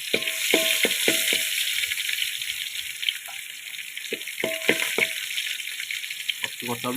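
Chopped ginger and garlic sizzle steadily in hot coconut oil in a pan over high heat, with a spoon clinking and scraping against the pan at intervals.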